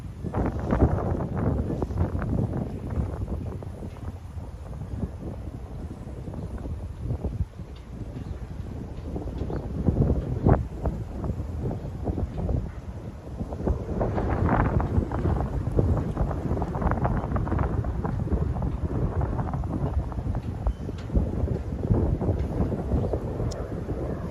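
Strong wind gusts buffet the microphone on a Manhattan street along Broadway in winter, a continuous roaring rush that swells and eases in waves over about twenty-four seconds.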